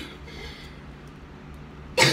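A single short, sharp cough bursts out at the very end after near silence.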